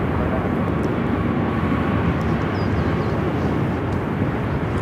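A heavily loaded airliner roars down the runway on takeoff at Phoenix Sky Harbor airport, a loud, sustained low engine rumble that stays powerful and steady throughout.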